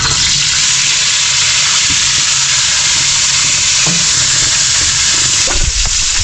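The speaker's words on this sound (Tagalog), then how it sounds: "Anong luto yan, Peng? Prito." Food fries in a pan with a loud, constant sizzle and hiss, close up, with a few scrapes and knocks of stirring near the end.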